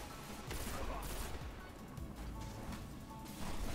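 Shotgun fire in the Destiny video game, a dense flurry of overlapping blasts and impacts at moderate, fairly muffled level, continuing without a break through the whole moment.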